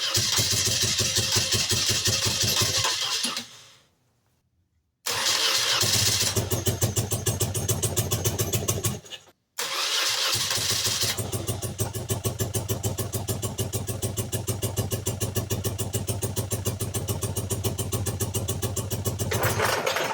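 A BMW R80 Paris Dakar motorcycle engine runs and revs close by, with a steady rough idle that cuts out twice briefly, then picks back up and keeps chugging loudly to the end.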